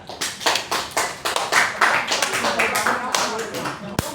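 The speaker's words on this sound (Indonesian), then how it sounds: "Tepuk tangan di San." Applause from a classroom audience during a micro-teaching lesson, with a loose burst of many hands clapping unevenly over several seconds and talk mixed in.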